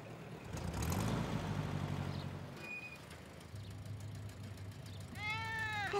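A cartoon cat lets out a wavering meow near the end, after a stretch of low rumbling background noise and a brief beep.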